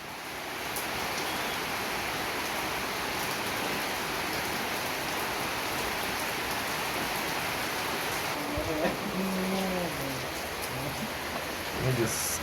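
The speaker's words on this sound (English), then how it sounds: "It is raining and they're around front pouring concrete." Rain pours steadily on a building site during a concrete pour, a dense, even hiss of falling water; a voice and brief tonal sounds rise near the end.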